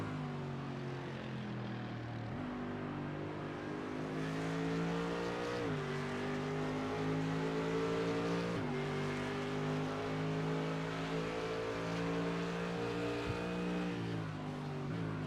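A green Mercedes GT3 race car's engine drones loudly and steadily in a sim racing game, with stacked harmonic tones rising and falling through gear changes and throttle lifts, running continuously for the whole stretch.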